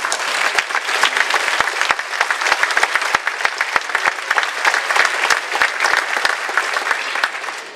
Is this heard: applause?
yes